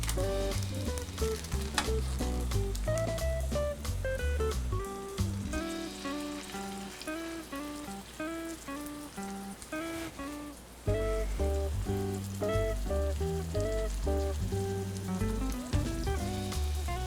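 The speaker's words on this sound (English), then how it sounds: "We're gonna pan fry the burgers." Shrimp burgers pan frying in vegetable oil over medium heat give a soft, continuous sizzle that sits under prominent background music throughout.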